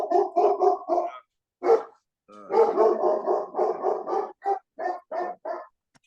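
A dog barks in a rapid series of close, loud, throaty barks and rough growling woofs, coming in bursts with brief pauses and no speech.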